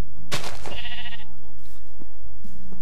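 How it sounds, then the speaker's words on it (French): Sheep bleating in the video game Minecraft, a couple of close, clear bleats early on followed by quieter game background sounds, with no talk. "Alors j'ai trois moutons blancs"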